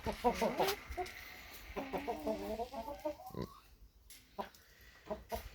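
Several chickens cluck and squawk close by in bursts, with quieter stretches between, while a person speaks briefly nearby.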